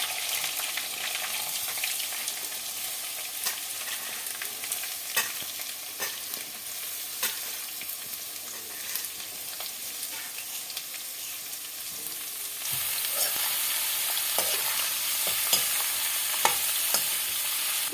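Chopped bitter gourd pieces sizzle steadily as they fry in a pan with fenugreek seeds, with frequent clinks and scrapes of stirring throughout; the frying grows slightly louder and brighter partway through, with no talking.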